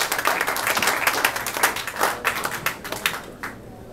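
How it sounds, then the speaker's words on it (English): Applause from the crowd at the Beachland Tavern after a live music show, a dense patter of many clapping hands that gradually thins out toward the end. "round of applause, ladies and gentlemen, to the Beachland Tavern for having us this evening"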